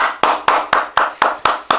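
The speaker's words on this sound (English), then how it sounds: "Let's put a round of applause in there." Steady hand claps on a talk show, about eight sharp, loud, evenly spaced claps in a quick regular rhythm, with no crowd noise behind them.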